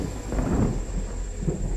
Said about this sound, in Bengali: আকাশে যা মেঘ ডাকছে,